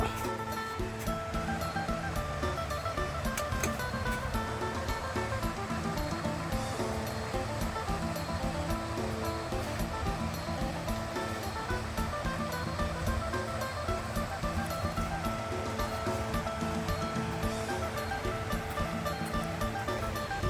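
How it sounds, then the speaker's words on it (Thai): Steady, broadband rushing of Mo Paeng waterfall in Pai, Thailand, a continuous wash of falling water that holds level throughout with no clear breaks. "น้ำตกหมอกแปงนะครับ"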